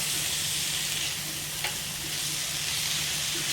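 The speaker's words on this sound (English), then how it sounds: "in this high heat to saute them for a few minutes" Onions saute in a pot on high heat for a chicken tagine, giving a steady, close, even hiss of frying with a faint stir partway through and no talking.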